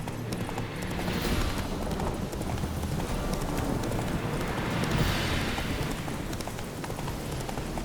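Hooves of the horse Roach clip-clopping in The Witcher 3, a continuous rapid rhythm close by, mixed with wind-like rushing noise that swells and fades.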